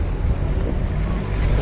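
Rushing water at Ushu Waterfall in the forest near Kalam, Swat, a loud continuous roar heavy in the low end and mixed with wind buffeting the microphone.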